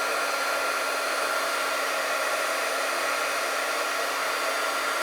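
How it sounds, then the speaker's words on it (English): A Wagner heat tool blows hot air over embossing powder, a steady loud whooshing drone that holds constant throughout, close and uninterrupted, with no voices. "And I'm using the Wagner heat tool."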